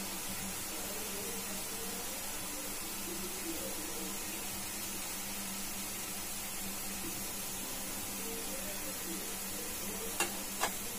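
Boondi batter drops fry in hot oil, a steady, faint, even sizzle with soft bubbling that carries on throughout, along with a couple of brief ticks near the end.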